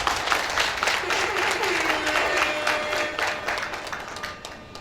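Audience applause at an annual staff party for a consulting firm, a steady mid-level patter of many hands with faint murmuring, tapering off at the close.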